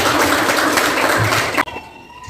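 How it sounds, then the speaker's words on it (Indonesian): A classroom of students claps for a classmate, a dense burst of applause that cuts off abruptly after about a second and a half, leaving a quiet room. "tepuk tangan untuk temannya ya"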